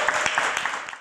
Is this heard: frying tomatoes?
no